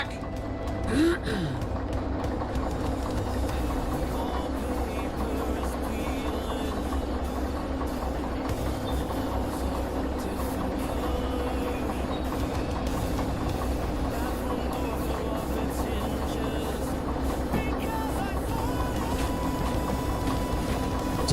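A locomotive shunting railroad cars, a steady loud diesel engine drone with a rumbling low end holding throughout, a brief squeal near the start and no speech.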